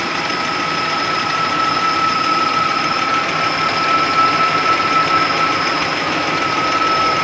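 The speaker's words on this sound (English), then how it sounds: "Now we can hear the hydraulic lifters beginning to rattle as the engine oil and its temperature increase." A Nissan VG33E V6 engine runs steadily at a constant, fairly loud level, with a continuous mechanical whine and a busy clatter that fits hydraulic lifters rattling as the oil warms.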